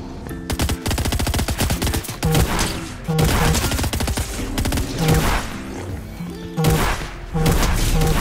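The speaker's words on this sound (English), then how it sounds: "I hear shooting over there." Video game gunfire, with dense, loud bursts of rapid automatic shots and booming impacts running nearly continuously, over an intense game soundtrack.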